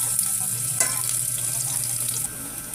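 Onions sizzle loudly in a hot pan with a steady hiss while being stirred. Brief utensil scrapes and clinks sound near the start, then the frying continues evenly.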